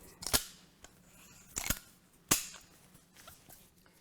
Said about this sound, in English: you can push that up with your finger, lock the bolt open